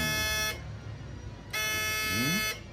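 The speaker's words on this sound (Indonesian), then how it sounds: "Buzzer sudah berbunyi" Two long, steady electronic buzzer tones, each about a second, separated by a short pause over a constant mechanical hum from a snakehead fish extract extractor's timer.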